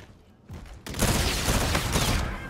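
Rapid gunfire from a weapon in a first-person shooter, a dense loud burst of shots starting about a second in and running continuously, with no talking over it.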